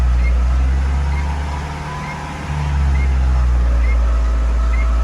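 A Tata CNG car engine under repair for poor acceleration is revved, a steady low engine roar that dips briefly and then rises again, loud and close with no talk.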